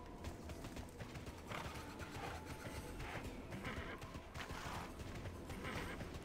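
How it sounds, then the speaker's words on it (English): Horse hooves clip-clop in the online game Tera, a steady rhythmic trot heard close up over dense game ambience, with an occasional whinny and no talk. "My horse now."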